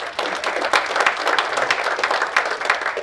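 A conference audience at a farmers' gathering claps for a speaker, a dense and lively burst of applause from a large crowd that fills the room close by and carries on steadily for a few seconds.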